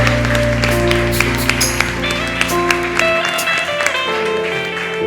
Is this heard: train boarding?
no